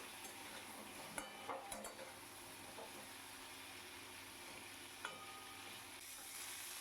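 Cauliflower florets frying in a pan, a faint continuous sizzle with a few light scrapes and clinks of a spatula stirring, close but quiet.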